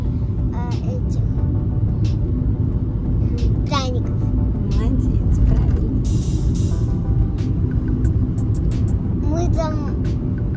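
A rented car drives along a road, heard from inside as a constant loud low rumble of engine and tyres, with people talking and a voice over it.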